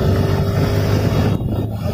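A motorcycle cruising during a charity road run in Kolkata and leaning through a turn, its engine a steady near drone mixed with wind rush, with a brief dip in the sound partway through.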